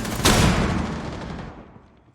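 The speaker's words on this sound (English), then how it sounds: "Flash grenades coming in." Flash grenades go off in a tactical shooter esports match, a loud sharp burst at the start followed by a ringing, dense crackle of gunfire that slowly fades away over two seconds.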